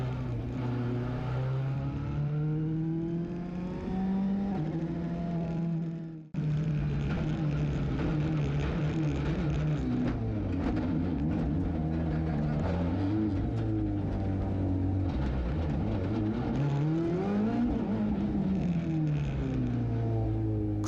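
Onboard a rally car at night on the Oulton Park circuit, the engine roaring loud and continuous with revs climbing and falling through gear changes and one abrupt momentary cut.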